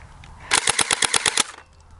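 An airsoft gun fires a rapid burst of about ten sharp, evenly spaced shots of BBs, close and loud, then stops abruptly, with quiet room tone before and after.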